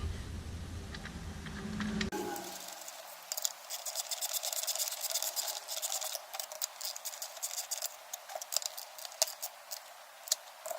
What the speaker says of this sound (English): Now I'll install the spark plug.